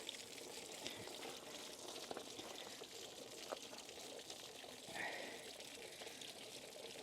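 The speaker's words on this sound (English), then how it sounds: "So now all the water's coming out." Water drains out of an RV hot water tank in a steady, faint gushing pour that continues without a break, with low rustles and knocks in the background.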